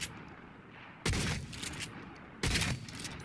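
The Headsman iconic shotgun fires twice in Cyberpunk 2077, with two sharp, loud blasts about a second and a half apart. Each shot is followed by a brief ringing tail over a quiet background.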